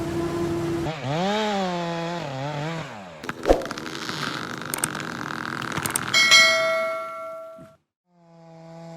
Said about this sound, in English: the chainsaw works with pure skill and precision as the operator studies the lean